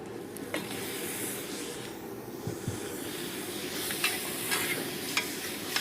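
Meat sizzles and hisses as it is stirred into a pan of cooked onions and masala with turmeric, a steady close frying noise with occasional scrapes and clicks from the stirring.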